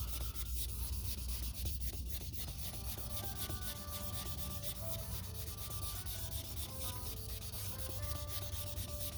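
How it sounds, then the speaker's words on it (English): Wet sanding deep scratches out of the clear coat on a black car's paint with 2000 grit, a steady close rasping rub that continues evenly for the whole stretch with no talk. "this is where the wet sanding process comes in handy for the scratches"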